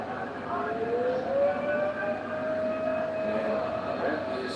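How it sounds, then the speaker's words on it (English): A wailing siren at a rugby league stadium during a Dragons vs Rabbitohs NRL trial match rises in pitch and holds a long, sustained tone, sounding somewhat distant over a background of crowd noise and a commentator's voice. "The Phantom Siren makes an appearance."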